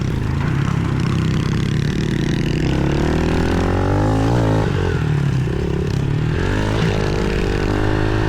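A pit bike engine runs loud and close on a ride around Oceanside, droning steadily and rising and falling in pitch as the throttle changes, with no talking.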